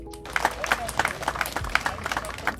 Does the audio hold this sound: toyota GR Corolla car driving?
no